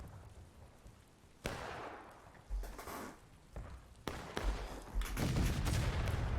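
Artillery shots ring out in the video game Generals At War during a 100-player battle: a few sharp booming reports spaced a second or two apart, some distant and some nearer, over a rumbling battlefield bed with no talk.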